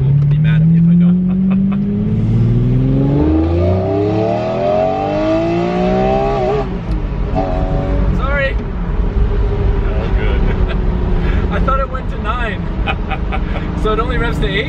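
Lamborghini sports car engine revving hard toward its 8,500 rpm limiter, loud rising howls climbing in pitch several times, then dropping to a rumbling idle with sharp blips, with people talking over it.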